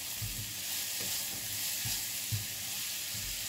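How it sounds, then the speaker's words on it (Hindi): Finely chopped medium onions sautéing in hot oil: a steady, even sizzle with soft stirring thumps, close and continuous, with no talking. "तेल गर्म हो गया है, अब मैं इसमें प्याज डालूंगी"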